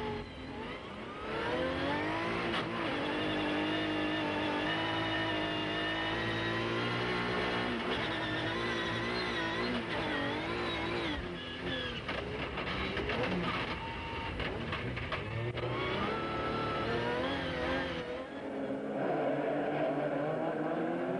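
Race cars roar off the start of a Trophée Andros ice race final, a loud, dense wall of revving engines with rising and falling pitches that holds for about twenty seconds before easing slightly.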